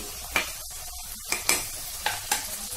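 Ginger paste and onion are sautéed in hot oil, sizzling quietly under several crisp spatula scrapes and taps on the pan. Brief and close, with no voices.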